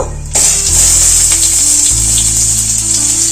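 Cut sour mango tossed into hot oil with fried whole spices bursts into a loud, steady sizzle that swells after a quiet start and keeps hissing evenly throughout, with no voices.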